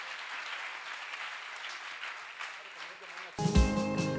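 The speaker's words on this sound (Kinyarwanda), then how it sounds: "Clap hands for Jesus." A church congregation clapping hands together in steady, moderately distant applause, which cuts off abruptly as loud music with a low beat takes over at the end.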